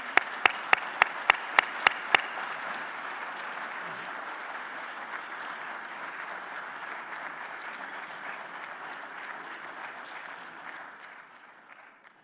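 An audience at the Glendale State of the City Address welcomes the mayor. A few sharp, distinct claps open into sustained, even applause from the crowd, which gradually tapers off at the end.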